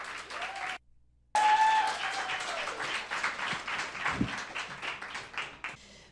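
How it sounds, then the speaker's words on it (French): An audience at a French-language talk on adolescent anxiety claps warmly in a sustained round that cuts out briefly and then resumes, full and fairly close. "Une bonne main d'applaudissements, s'il vous plaît, pour Frédéric."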